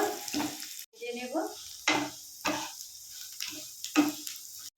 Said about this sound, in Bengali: চিড়েগুলো ভেজে নিচ্ছি।